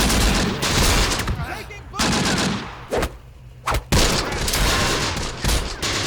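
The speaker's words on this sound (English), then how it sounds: "T-gun still firing" Bursts of automatic gunfire and fusillades from the World War II strategy game Close Combat: The Bloody First, loud and dense in several volleys with brief quieter gaps between them.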